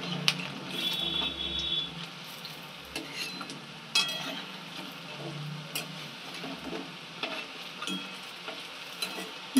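Pakoras fry in a pan with a soft continuous sizzle, broken by scrapes and clicks of a utensil as the fritters are turned over.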